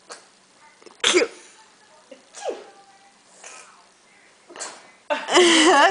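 A small child fakes sneezes in a run of short, sharp bursts spaced a second or so apart. A loud adult voice joins near the end, also mimicking a sneeze.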